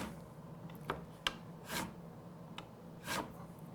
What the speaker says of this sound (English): So I'll take the same burnisher, register the handle just against my workbench, and push down.